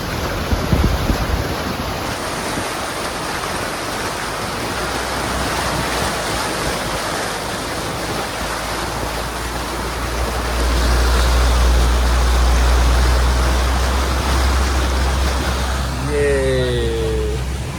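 Flood-swollen sea waves pounding a beach, a steady heavy roar of surf with wind rumble building louder toward the middle, continuous throughout.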